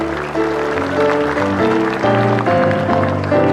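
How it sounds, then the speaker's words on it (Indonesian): Studio audience applause on an Indonesian comedy talk show, a steady wash of clapping lasting the whole clip with music-like tones running underneath. "Oke, tepuk tangan dong."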